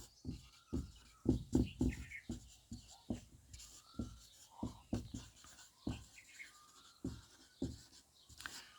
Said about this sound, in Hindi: मैं लिख देता हूँ यहाँ पर